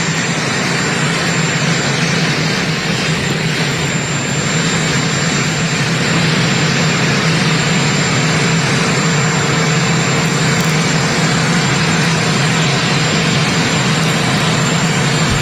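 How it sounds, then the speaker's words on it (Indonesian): The Air Force One jet aircraft departs with a powerful, continuous engine roar and high whine that stays loud and steady throughout, with no voices over it. "Trump berangkat ke Cina menggunakan pesawat Air Force One dengan pengawalan ketat"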